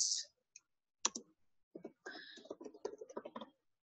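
Mouse clicks on a computer while saving a Word mail-merge document, a few sharp separate clicks followed by a quick cluster of small taps and clicks, close and fairly quiet, with no talk.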